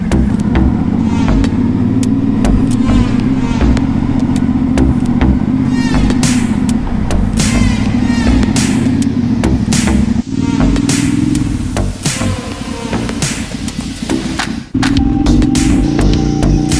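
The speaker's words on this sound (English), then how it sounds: "I'm riding on a crotch rocket, a big old motor in between my legs" A sport motorcycle engine hums steadily beneath the rider on a ride, loud and close with a constant drone, briefly dipping and shifting as the throttle changes.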